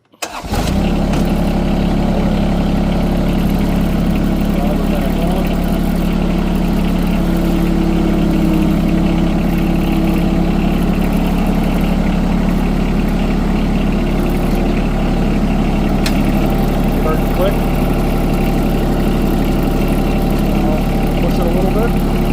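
A John Deere X700-series lawn tractor engine cranks and catches, then settles into a steady, continuous idle with a constant low rumble throughout.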